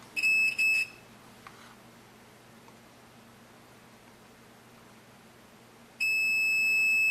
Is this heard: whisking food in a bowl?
no